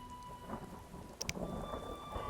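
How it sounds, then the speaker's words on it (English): Rain falls steadily in The Witcher video game, a soft continuous patter with a faint thunder crack midway, quiet and distant with no talk over it. "Some rain."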